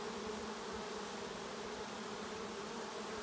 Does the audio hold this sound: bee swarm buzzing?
yes